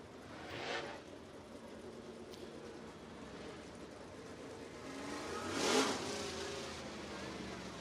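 A 900 horsepower dirt late model from Salem, Alabama runs at a night race at the National 100, its engine droning steadily at a distance, with louder swells as cars pass at about one second and near six seconds.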